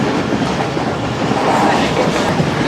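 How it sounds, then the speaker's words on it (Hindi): The Karakoram Express passes through Mehrabpur railway station at speed, a loud, continuous rumble with rhythmic clickety-clack from the wheels, heard up close and alone. "ट्रेन हमारी मेरे होम आबाई गांव, मेरा मोस्ट फेवरेट मेहराबपुर रेलवे स्टेशन को दोस्तों पास थ्रो कर रहे हैं ज़बरदस्त स्पीड के साथ"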